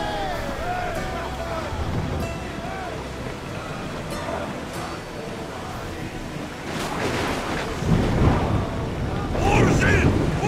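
A sailing ship under way at sea in Assassin's Creed Odyssey, with steady wind and water noise rushing past the hull, swelling louder toward the end, while voices call out over it.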